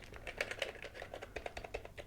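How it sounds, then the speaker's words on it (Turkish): Rapid typing on a Philips C501 wireless keyboard, with quick clustered key clicks that are fairly loud and clacky. The clicks come close and alone over two seconds. "Biraz da sesli bir klavyeye benziyor"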